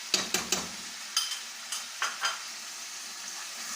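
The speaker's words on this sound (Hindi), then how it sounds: "अब दही डाल के इसको भूनेंगे।" Chicken karahi with fresh homemade yogurt frying in a pan, a soft continuous sizzle broken by several sharp scraping stirs of a spoon in quick clusters, close and fairly quiet, with no voices.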